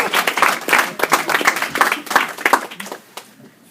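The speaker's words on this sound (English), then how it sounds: "Applause going for Black History Month, you guys." Audience at a stand-up comedy show claps and applauds in a loud, dense burst that thins out and fades toward the end.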